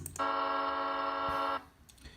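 A steady, loud electronic horn from a Digitrax model locomotive sound decoder blares on one sustained tone for over a second, then cuts off, leaving quiet background.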